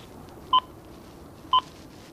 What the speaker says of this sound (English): you can set your clock or watch to the global standard time simply by ringing up the speaking clock